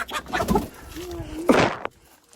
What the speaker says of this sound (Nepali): हाम्रो भाले यता देखाउनु न अलिक माथि मजाले उचाल्नु न